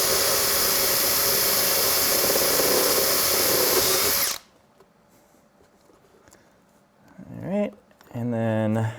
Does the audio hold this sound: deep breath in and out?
no